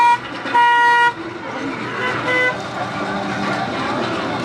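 A powered car ride at the Six Flags Great Escape amusement park honks its horn in a loud sustained toot, then a shorter one later, over engine hum and people talking.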